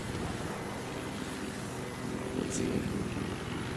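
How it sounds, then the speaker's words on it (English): Helicopter attacking in Battlefield 4, a steady, fairly faint rotor and engine drone under brief talk from a player. "there's a helicopter attacking me"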